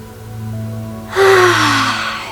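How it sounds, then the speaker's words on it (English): A deep inhale through the nose during a guided breathing exercise, a single close, airy breath that swells suddenly and trails off over a steady background hum. "let's start by breathing in through our nose"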